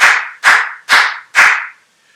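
Four hollow hand claps made with the fingers cupped into the palm to imitate a drum tone. They are loud, close and evenly spaced about half a second apart, with no talking.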